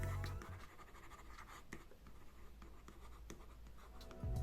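Metal nib of a Lenovo Active Pen 3 scratching across a paper-texture film on a Lenovo P11 tablet, a steady close scritching of handwriting strokes with small taps, heard alone.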